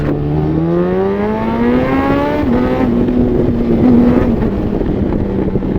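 A Yamaha FZ1 motorcycle engine revs close by, its loud droning note climbing steadily in pitch, briefly dipping, then holding, with wind noise over the microphone.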